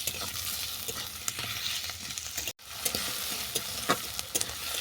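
Potatoes browning in hot oil in a pan, a steady sizzle with scraping stir strokes and a short break midway, no voices.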